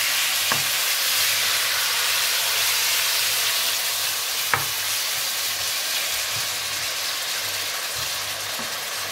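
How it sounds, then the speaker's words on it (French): Marinated pork with its marinade poured into hot oil in a heated wok, giving a loud, continuous sizzle and hiss with a couple of faint knocks, close and steady, no voices. "Une fois que la poêle elle a bien chauffé, j'ai remis de l'huile et là je verse ma viande"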